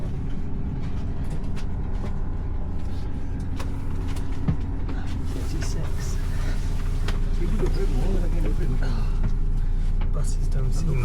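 Inside a bus bound for Helsinki, a steady engine drone and road rumble fill the cabin with occasional rattles and clunks, and a voice talks over it.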